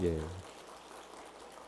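A church congregation applauding during a Korean Sunday morning service. The crowd claps as a steady, rain-like patter that follows a brief spoken voice at the start.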